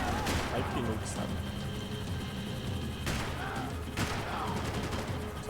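Gunfire in the video game Max Payne 3, a dense stream of shots with sharp cracks near 0.3, 3 and 4 seconds over a continuous busy game mix, with talk mixed in.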